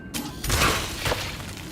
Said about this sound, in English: Not very exciting explosion, but yeah, they're acid pus.